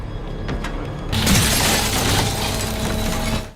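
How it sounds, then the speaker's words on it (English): A mirror shattering into pieces, a sudden loud crash of breaking glass that bursts in after a quieter rumbling start and holds as a dense noisy spray before cutting off. "As the mirror shatters into pieces, Dawn screams in agony"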